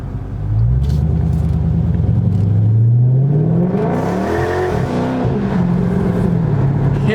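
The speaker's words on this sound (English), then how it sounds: "do a tiny roll pull where you guys can hear the exhaust" A Dodge Charger Scat Pack's exhaust roars loudly and steadily as the car accelerates from a roll, the engine note climbing in pitch, dipping briefly and rising again, with no talking.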